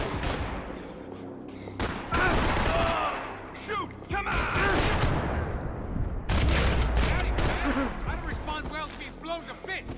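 Rapid gunfire from the video game Max Payne 3, with dense bursts of shots and booms layered over music and shouted voices, loud and continuous across the scene with brief lulls.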